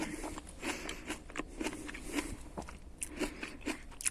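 Close, repeated crunching bites and chewing of a crisp, juicy raw rhubarb stalk, steady and rhythmic with no talking.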